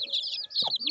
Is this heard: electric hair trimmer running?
no